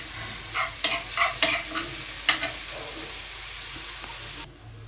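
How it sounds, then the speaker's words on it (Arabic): A mixture hisses and sizzles in a hot frying pan while a utensil stirs it with a string of scraping strokes, and the frying noise drops away near the end. "وغادي نخلطو حتى يتشحر ليا مزيان"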